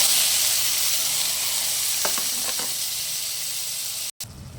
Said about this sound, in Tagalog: atin munang gigisahin ng ating bawang at sibuyas